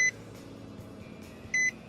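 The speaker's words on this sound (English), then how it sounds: "we will just wait until our beeping stops" Two short electronic beeps from a 2018 Nissan Murano SL dashboard at startup sound about a second and a half apart, each a clear high tone over faint background hum.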